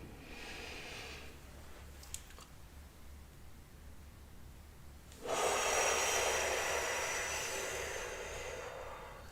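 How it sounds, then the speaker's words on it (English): A long, loud deep inhalation begins about midway through, a broad airy rush that swells and slowly fades, following quieter faint breathing and brief soft clicks. "Really nice deep breath in."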